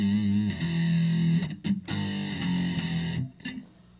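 Fender Telecaster run through a Boss DS-1 distortion and Boss DD-7 delay, distorted chord strums with sustained echoing tails and a few quick choppy hits, ending in a decaying repeat.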